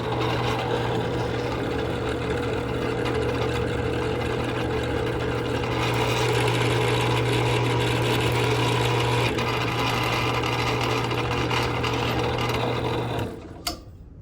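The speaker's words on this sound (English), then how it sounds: "let's go to the drill that came with the tap" A steady, continuous mechanical whir of a power drill drilling a shotgun part for a bolt release runs for about thirteen seconds at close range, then stops abruptly with a clunk.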